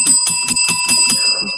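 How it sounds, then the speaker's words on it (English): A bell rung rapidly about six times in a steady, even rhythm, bright and close, with the strikes ringing into one another before fading out. "Ring the bell."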